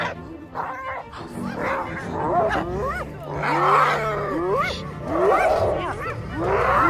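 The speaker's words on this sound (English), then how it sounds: "when lions attack them, they cry in terror" Hyenas in Kruger National Park cry out in terror as lions attack, a series of rising whoops and yelping squeals repeating in loud, chaotic bursts close by.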